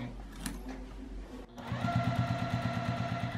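A sewing machine stitches around the edge of a drawstring fabric bag, starting with a few slow stitches, then running at a fast, steady rhythmic chatter close up.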